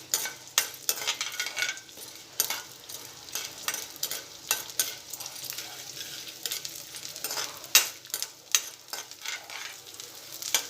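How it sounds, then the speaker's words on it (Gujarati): Edible gum (gond) frying in ghee over a low flame, a busy crackling sizzle with repeated sharp scrapes and clicks of a spoon stirring in the pan. "એમાં આપણે 2 મોટી ચમચી જેટલો ગુંદર એડ કરીશું અને એને આપણે તળી લઈશું"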